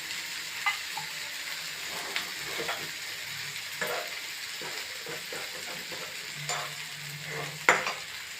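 Pomfret (chanduva) fish steadily sizzles in a hot pan dusted with garam masala, with a constant close frying crackle and scattered louder pops and stirring clinks.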